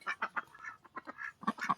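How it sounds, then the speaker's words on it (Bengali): Ducks being let out quack in quick, nasal bursts, several calls close together and fairly near, with no talk over them. "এখন আমি হাঁস ছাড়ছি"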